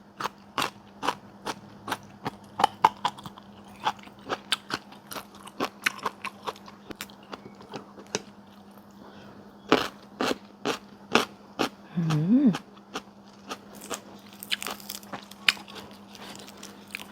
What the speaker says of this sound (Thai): กินกับหน่อไม้อ่อน ๆ เลย